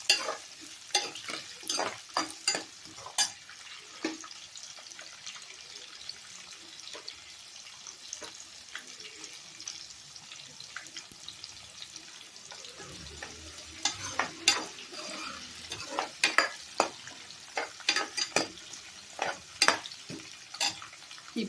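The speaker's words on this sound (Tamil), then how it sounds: "இதாகவும் சேர்த்து நல்லா மிக்ஸ் பண்ணிப்போம்." Brinjal curry ingredients being stirred and fried in a pan, a steady sizzle under repeated sharp scraping clatters of the spoon against the metal, close and fairly loud throughout.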